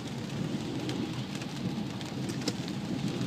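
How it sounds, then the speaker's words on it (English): Heavy pouring rain drums steadily and loudly around a car, a dense continuous wash of sound with no voices. "So, pouring rain, car's about to break down, and I feel like crap."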